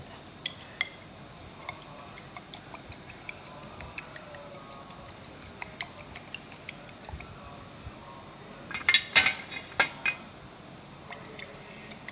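Glass test tubes holding alkaline copper reagent being handled and mixed, with scattered light glassy clinks and ticks over a quiet room, then a short cluster of louder knocks near the end.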